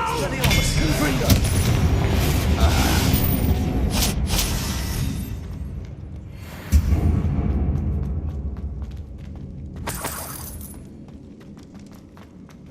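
Confringo spell explosions in the Hogwarts Legacy video game, with loud booming blasts and rumbling crashes, one sharp blast partway through, and game voices and effects mixed in around them.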